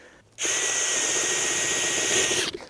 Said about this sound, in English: find roughly the middle, and we simply drill a hole